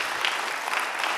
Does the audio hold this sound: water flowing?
no